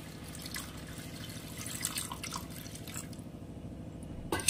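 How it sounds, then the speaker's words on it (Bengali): Warm water poured into a simmering fish curry gravy with small fish, a continuous splashing pour for about three seconds that then thins out and stops, with a faint clink at the end. "এর মধ্যে দিয়ে দেব উষ্ণ গরম জল"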